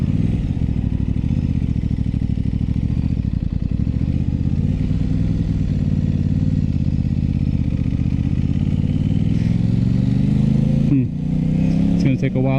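An Aprilia RS 660 sport motorcycle idles loudly up close with a steady engine drone, the pitch wobbling and rising slightly as it creeps through a slow U-turn, then blips the throttle near the end.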